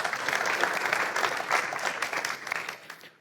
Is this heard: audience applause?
yes